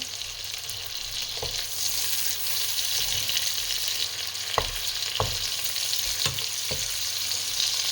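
Chicken steaks frying in a pan hiss steadily while being flipped, with several sharp clacks of the utensil against the pan spaced across the sizzle, close up with no talking.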